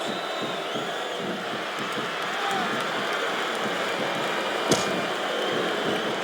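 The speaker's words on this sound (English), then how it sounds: "This capacity crowd is making their opinions known tonight." Arena crowd in the WWE SmackDown vs. Raw 2007 video game during a Big Show vs Kane Ironman match keeps up a steady, moderately loud wash of cheering and murmur, with one brief sharp hit near the end.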